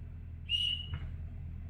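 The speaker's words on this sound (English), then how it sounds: "It whistles up there when you blow." A speaking tube whistle blown on a theatre stage in a performance of Pinter's The Dumb Waiter gives one clear, steady high whistle of about a quarter second, then a brief softer blip, over a low room hum.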